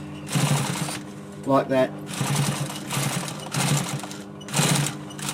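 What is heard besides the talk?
sewing machine top-stitching chair arm cover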